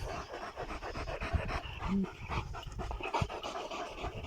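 Exhausted kangal dogs panting hard after a fight with a wolf, rapid rhythmic breathy huffs close up and continuous, with a brief whimper and rough background noise.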